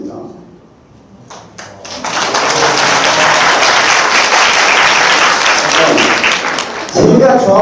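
An audience at an apartment reconstruction briefing breaks into sustained applause after a quiet opening. Clapping builds to a dense, loud, even roar that holds for several seconds before a voice cuts in at the end.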